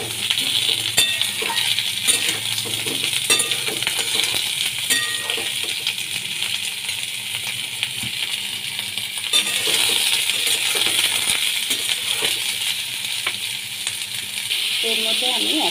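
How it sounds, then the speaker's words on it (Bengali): Ridge gourd tossed and stirred in a hot pan with dried and green chillies, a continuous bright sizzle broken by scraping and clinks of the spatula against the metal. "ঝিঙেগুলোকে এবার আমি দিয়ে দিলাম। ভালো করে নেড়ে চেড়ে নেব।"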